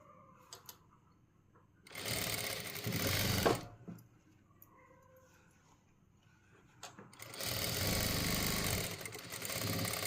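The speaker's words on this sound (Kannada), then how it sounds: "ಇದೆರಡನ್ನು ಸೇರಿಸಿ ಒಂದು ಹೊಲಿಗೆ ಹಾಕೋತೀನಿ." Sewing machine stitching old shirt fabric runs in two bursts of fast, steady mechanical whirring, each lasting a couple of seconds, with quiet pauses and faint handling noises in between.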